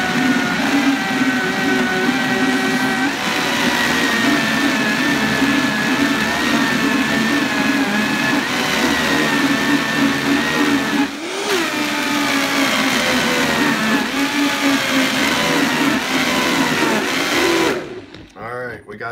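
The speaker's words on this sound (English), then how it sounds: "put it in our Vitamix. Hopefully you got a Vitamix or a very powerful mixer. Turn it on real quick" A Vitamix blender runs loud and steady for about seventeen seconds blending coconut milk, its motor whine dipping briefly midway before cutting off near the end.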